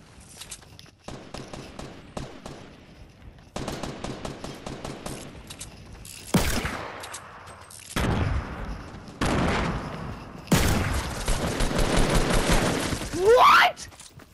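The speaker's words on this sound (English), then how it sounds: "I hit him with the revolver, but I missed every shot on my AR." Fortnite gunfire from a revolver and an assault rifle comes as clusters of sharp, close shots and rapid bursts separated by brief lulls, with footsteps and occasional movement noise between volleys.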